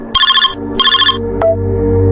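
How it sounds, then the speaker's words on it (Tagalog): A mobile phone ringtone plays two bright electronic trill bursts, loud and close, in a narrated horror story, then cuts off into a low ambient music bed. "ay tumawag na naman si Romel."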